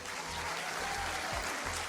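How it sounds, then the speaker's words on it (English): Soundboard applause effect played during a Mahjong Soul stream, a steady wash of clapping at a moderate, even level with a low hum beneath it. "Applause sound effect."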